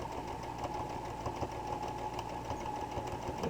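A home sewing machine stitches a quilted jelly roll heart hotpad, giving a steady, close, continuous mechanical whirr with rapid needle rhythm and a few faint bumps throughout.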